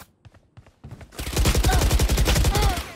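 Rapid automatic fire from a Phantom rifle in the tactical shooter Valorant, starting with a few sparse shots and then a dense, loud, sustained burst of gunfire, with faint in-game sounds behind it.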